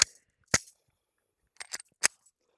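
A Glock 30S pistol chambered in .45 fires in sharp, distinct cracks, two single shots followed by a quicker pair, with silence between.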